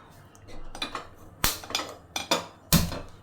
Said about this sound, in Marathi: इथे मी कढई घेतले